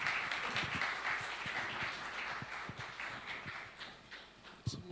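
Applause from a conference audience after a presentation, a steady wash of many hands clapping with scattered sharper claps, fairly loud and fading slightly toward the end.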